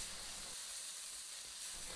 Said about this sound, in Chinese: 再加入河虾，开大火翻炒